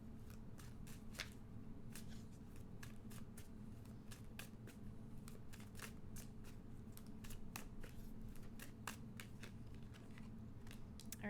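Oracle cards are shuffled in a quiet room, giving a steady run of soft, rapid papery riffles and taps that repeat throughout, close and faint with no talking.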